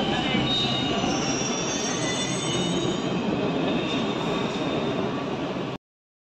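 A Delhi Metro train rolls into the platform at Sector 34 Noida station with loud, sustained wheel squeal and rumbling over the rails, then stops abruptly.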